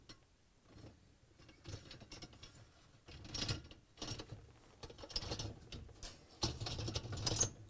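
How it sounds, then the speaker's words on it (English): Rollers on a GE dishwasher upper dish rack clack and rattle onto their rails in a run of plastic clicks and knocks, some louder and closer, others faint, with no talking. "I'm going to place all 4 rollers onto the rails."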